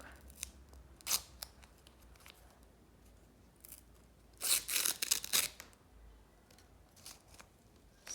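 Paper tearing and crinkling as a paper surprise package is opened, with a single sharp rip early on and then a louder cluster of tearing and rustling bursts midway, followed by a few lighter crinkles.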